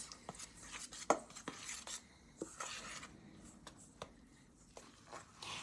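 Dough for a quick two-ingredient recipe with self-rising flour is mixed in a bowl, giving soft repeated scrapes and taps, close and quiet with brief clinks.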